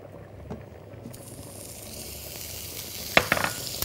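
Butter melting in a hot pan, a faint sizzle that builds gradually, then a few sharp bursts of crackling near the end.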